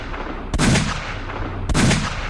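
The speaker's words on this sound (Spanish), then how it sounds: "Alzó el arma y disparó 3 veces más." Gunfire sound effect in a Spanish-language Resident Evil 0 audiobook: two sharp, loud shots about a second apart, each followed by a booming decay.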